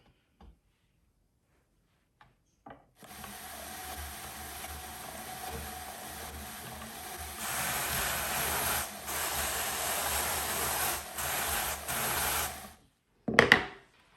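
A drum carder turning through a blend of natural alpaca, Rambouillet wool, faux cashmere and Angelina fiber, giving a steady soft whirring rasp for about ten seconds after a few light clicks, ending with a handling clatter.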